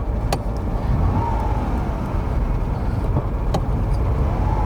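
A Ferrari Dino 246 GT drives along while shifting into second gear. Steady, loud road and engine noise fills the whole stretch, with a couple of faint clicks.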